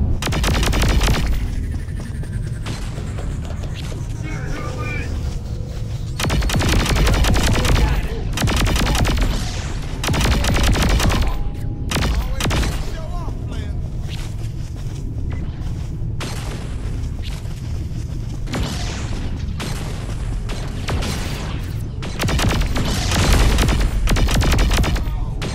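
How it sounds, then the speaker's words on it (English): Gunfire and explosions aboard a ship during a battle in the Saints Row IV video game, with dense, continuous bursts of shots and booms that rise and fall in loud waves. "With all these explosions, either it's under attack or it's coming apart."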